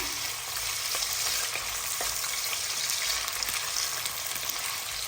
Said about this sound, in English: we are going to fry these on high heat until they're golden brown